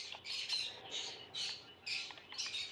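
A pet baby bird named Ari gives repeated shrill squawks, about five harsh bursts in quick succession, close and loud with brief gaps between them.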